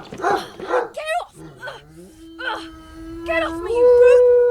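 A cartoon dog barks, yelps and whimpers with a long drawn-out whine, loud and close, with voices talking around it.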